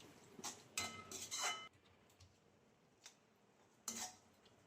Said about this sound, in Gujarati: ટમેટા સોસ આ રીતે આપણે બધું મિક્સ કરી લેવાનું.